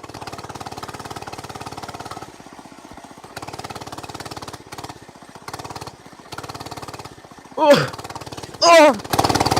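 A Hoverhearts gas mini bike engine runs with a rough, buzzing putter while off-roading on gravel and dirt, cutting out and revving in uneven bursts, with a rider's short exclamations heard near the end.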